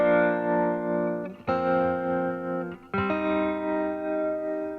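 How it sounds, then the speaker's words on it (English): Electric guitar through a phaser effect, sustained distorted chords changing twice with a sweeping, swirling tone, full and close with no voices. "This is with the phaser."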